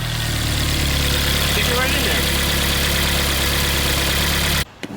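A Mazda Miata engine idles with a steady, loud low rumble and slight vibration, close by, while people talk over it; near the end it cuts out abruptly for a moment.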